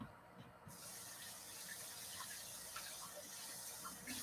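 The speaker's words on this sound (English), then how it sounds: "I'm going to rinse this off." Running tap water streams steadily in a home kitchen sink as something is rinsed off beneath it, a soft continuous splash and hiss that starts abruptly, heard alone at low volume.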